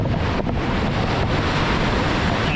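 Stormy winter sea surf pounds a beach under strong wind, a loud, unbroken roar of waves and gusts with the wind buffeting the microphone throughout.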